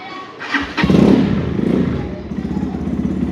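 A Taro GP 1V3 motorcycle is kick-started up close: a thud and clatter, then the engine catches into a loud, throbbing idle.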